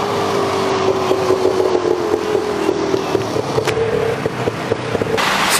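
A tuk-tuk rides through busy Bangkok traffic, its small engine droning close by and shifting pitch as it slows and speeds up, over a rumble of surrounding vehicles, with a few sharp clicks and a brief burst of noise near the end.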